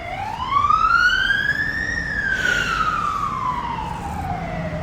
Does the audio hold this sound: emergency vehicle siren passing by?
yes